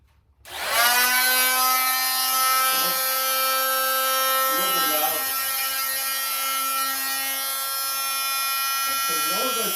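A power tool blade spins up to a steady high-pitched whine while removing drywall to expose plumbing. Its tone dips briefly several times as the blade bites into the wall.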